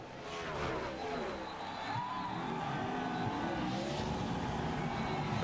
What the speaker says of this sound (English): Look at Harvick sliding sideways